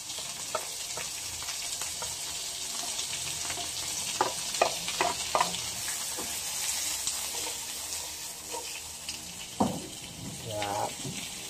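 Onion, tomato and garlic sauté in plenty of oil for arroz valenciana, a steady loud sizzle with scattered spoon scrapes and stirring knocks throughout.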